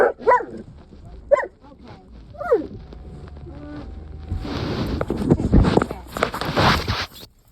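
A dog barks several times in short bursts, then wind buffets the microphone with rumbling noise over the second half.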